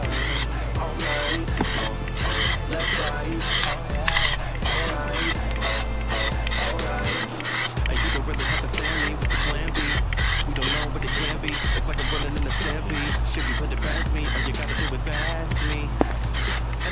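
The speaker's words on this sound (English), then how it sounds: "here's testing the pattern, how it sprays out" Plasti Dip aerosol is sprayed close up onto the wheels of a Mini car, a loud, continuous hiss with a fast pulsing rhythm that runs throughout.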